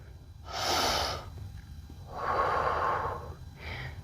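Slow deep breaths in a yoga-inspired calisthenics cobra pose, two long airy exhales about a second each and a shorter breath at the end, close and fairly quiet, with no talking.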